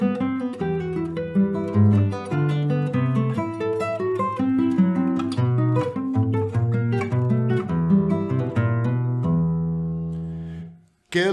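Classical guitar plays the opening phrase of Antonio Lauro's Venezuelan waltz No. 3 "Natalia", a steady stream of plucked notes and chords at close range, ringing out alone before a brief stop at the end.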